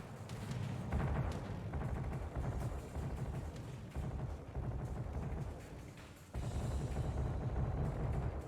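Heavy naval gunfire in World of Warships: dense, booming salvos rolling continuously for the full span, with a fresh loud barrage hitting near the end.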